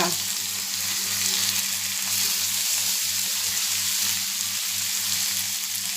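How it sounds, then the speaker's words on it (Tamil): Oil sizzles loudly and continuously as fish fries, a dense crackle with a faint rhythmic low hum underneath. "இவ்வளோ மீன் போட்டால் இது பொரிஞ்சு வரும் அப்படின்றது"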